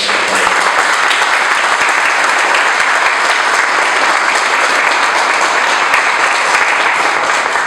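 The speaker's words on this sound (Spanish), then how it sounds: "al foro un fuerte aplauso para ellos" Loud, continuous applause from a forum audience for guest actors and a director after a panel, a dense wash of clapping that stays constant and close for nearly eight seconds.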